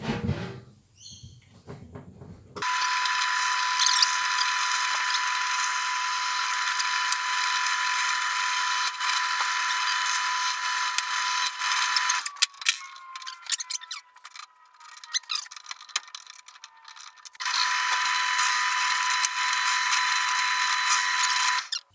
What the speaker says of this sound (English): Alrighty, let's see if I can get this thing drilled.